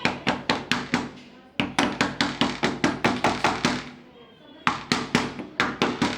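A hammer taps repeatedly on a door lock being fixed, quick loud even blows in two bursts separated by a short pause, close and with no talk over them.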